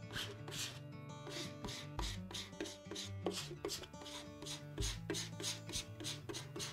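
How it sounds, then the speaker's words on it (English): Chalk paint is scraped with quick, rhythmic rasping strokes against a wooden craft piece, repeating steadily for several seconds, soft and close. "Y'all hear me scraping that?"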